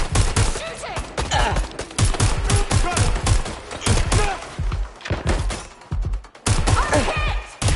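Rapid gunfire from the video game Watch Dogs: Legion, with dense bursts of loud shots and thuds hammering almost continuously, briefly thinning near the end before resuming, along with game sounds.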